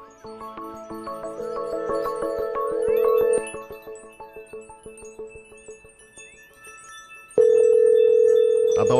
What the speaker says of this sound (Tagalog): susubukan natin tawagan si Miss Sas Rogando.